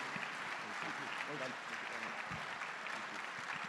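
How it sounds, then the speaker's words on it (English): Closing applause from a conference audience after a fireside chat with Richard Branson, a soft, steady spread of clapping heard from a distance with murmured talk running through it. "Big round of applause."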